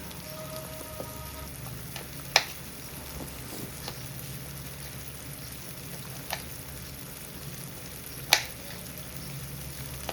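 Masala frying in oil for a Marathi-style eggplant curry, a soft, steady sizzle with a few sharp clicks and pops scattered over about ten seconds, with no talking.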